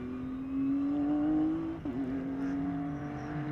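A GT race car drones steadily at a distance during qualifying at Sonoma, its engine note holding and shifting slightly, with a faint whir underneath and no talk.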